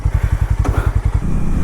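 A Harley-Davidson X440 motorcycle engine idles or runs steadily with a fast, even pulsing thump close by, and a brief brighter mechanical note rises over it; no talk.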